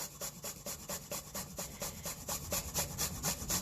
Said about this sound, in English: I'm just going to microplane in, like I said, 2 garlic cloves